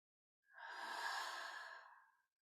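A deep, long exhalation during a guided breathing exercise, a single soft breathy rush rising and fading over about two seconds, close and alone in quiet.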